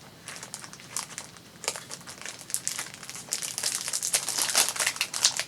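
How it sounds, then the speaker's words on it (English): A plastic bag with a sticky seal crinkles and crackles close by, irregular handling noises growing busier and louder toward the end; no talking. "I don't know what it is with me and these plastic bags with the sticky on them"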